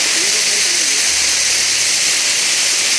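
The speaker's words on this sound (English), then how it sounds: "boiling a pot of water to make a cup of tea" A pot of water heats for tea on a camp stove at a tent site, giving a steady close hiss and roar with a faint low rumble partway through.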